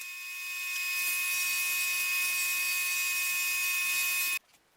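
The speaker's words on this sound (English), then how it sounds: "I'm going to start to cut the face frames here" A high-pitched power tool whines steadily for about four seconds while cutting wooden face frames for a shoe and sneaker cabinet, then stops abruptly; loud and close with no talk.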